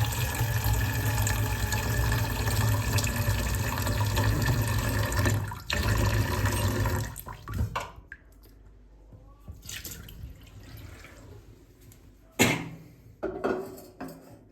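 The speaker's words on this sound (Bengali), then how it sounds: "দিয়ে দিলাম জল" About 700 ml of water poured steadily into a pot for boiling five eggs, a loud rushing flow for roughly seven seconds, then quieter drips and clinks of the pot.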